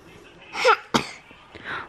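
A short, sharp sneeze bursts out near the microphone, followed by a quieter breathy sound, with a bit of vocalizing just before.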